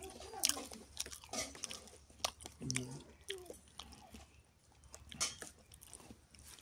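Someone eats fried dried chilli (shutki morich bhaji), with a few close, quiet, irregular crunchy bites scattered over a soft background and no clear talking.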